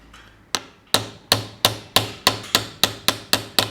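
Bearing sleeve hammered into a DT Swiss H1900 rear bicycle hub, about ten sharp metallic taps in quick, even succession, close and clear with no talk.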